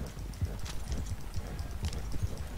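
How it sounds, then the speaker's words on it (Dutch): A warhorse gallops in Red Dead Redemption Online, its hooves thudding in a quick, steady clip-clop rhythm at close range over a faint background wash. "Ik heb deze fucking warhorse hier."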